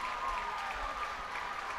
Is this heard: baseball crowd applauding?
yes